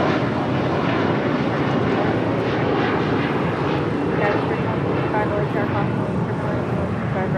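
An aircraft engine roars steadily at LAX airport, a broad sustained rumble that stays loud and close throughout, with a voice speaking faintly underneath.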